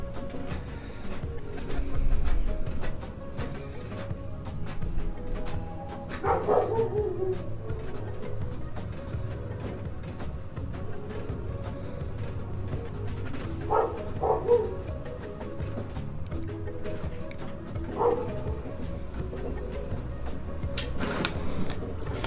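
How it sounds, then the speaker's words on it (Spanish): Several dogs fight and bark out in the street, heard from indoors as faint, intermittent yelps and barks in scattered bursts over a low steady room hum. "algunos perros se andan peleando"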